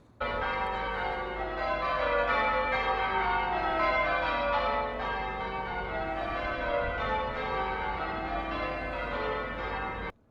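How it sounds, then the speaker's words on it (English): Church bells ring continuously in overlapping peals, rich and resonant, heard at a moderate distance without any talking. "But you're not here for the church bells, are you? But if you are, here they are."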